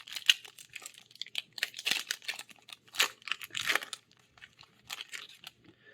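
Foil Wilds of Eldraine card booster pack being torn open, a run of close crinkling rips and crackles in irregular bursts, loud and unaccompanied by speech.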